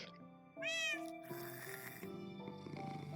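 Cats meow in the video game Minecraft: one loud, clear meow rises near the start, followed by softer cat sounds over steady game background tones.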